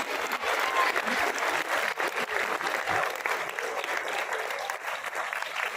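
A crowd at a Teacher's Day awards ceremony for excellence and appreciation applauds in a dense, sustained patter of clapping, fairly close and steady throughout.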